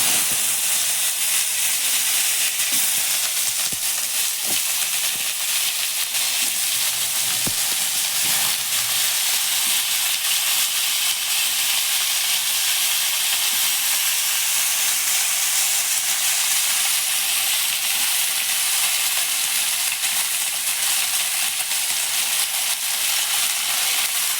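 Pumpkin and potato pieces sizzling in hot oil for a spicy home-style pumpkin dish, a steady, loud hiss holding evenly throughout with no pauses.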